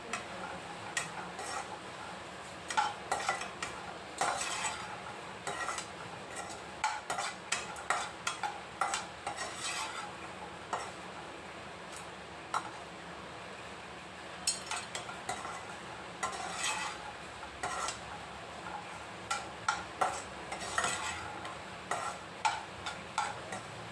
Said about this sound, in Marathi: काजू आणि पिस्ता भाजून झाले